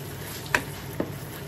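Tuna flakes and macaroni mixture being stirred in a pan, two short scraping strokes of a spoon against the pan over a faint steady background hiss, close and fairly quiet.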